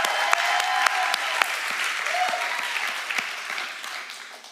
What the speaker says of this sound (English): Just give a big round of applause to all of them.